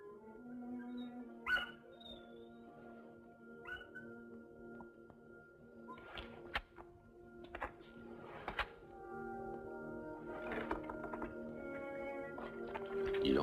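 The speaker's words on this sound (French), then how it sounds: "les chiens qui aboient joyeusement comme pour fêter l'arrivée de quelqu'un qu'ils connaissent bien" Several dogs bark and yip excitedly at night outside a hut, as if greeting someone familiar, with scattered irregular bursts of moderate loudness over a steady background.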